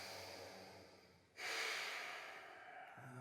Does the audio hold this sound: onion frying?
no